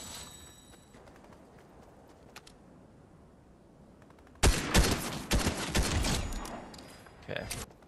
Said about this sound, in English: Let's see who's up here that keeps shooting. Because they are shooting a lot.